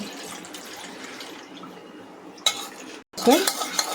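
Sweet milk mixture for balli malai (kharvas) being poured and scraped from a pot into a container, with wet stirring, a scrape of utensils, and clinks of metal dishware in short bursts after a quiet start.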